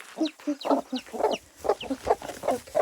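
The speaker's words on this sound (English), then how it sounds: "There should have been another hen in here." A hen clucks repeatedly in a coop, a run of short close calls at an uneven rhythm, with soft human voices murmuring faintly underneath.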